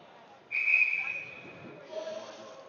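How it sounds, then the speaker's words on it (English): A referee's whistle is blown at an ice hockey game: one sharp, sustained shrill blast lasting over a second, then a fainter, lower tone trailing off amid quiet arena ambience. "Referee blowing his whistle"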